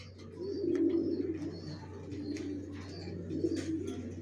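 Racer pigeons, young birds for sale, coo softly in repeated low rolling calls at close range, with faint chirps and a steady low hum underneath and no talk.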